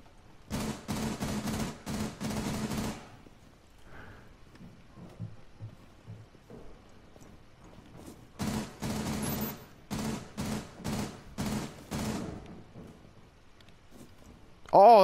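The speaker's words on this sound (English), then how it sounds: "He's shooting a dead body." Gunfire in Rainbow Six Siege: two bursts of rapid shots, one in the first three seconds and one from about eight to twelve seconds, with a quiet stretch between them.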